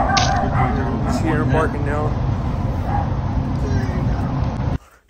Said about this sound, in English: He's here barking now.